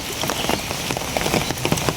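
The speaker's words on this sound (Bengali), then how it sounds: "বৃষ্টি নামছে" Rain falls close by, a dense patter of drops striking a surface with quick, uneven taps over a constant hiss.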